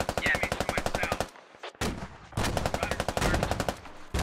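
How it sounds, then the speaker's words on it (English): Machine gun fire in a multiplayer war video game, long rapid bursts of loud automatic shots with a brief pause between volleys, close and dominant. "really nice MG fire"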